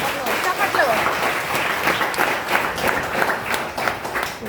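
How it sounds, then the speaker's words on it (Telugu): Steady audience clapping at a gathering, dense and fairly loud throughout, with voices mixed in underneath the applause. "చప్పట్లు కొడదామా?"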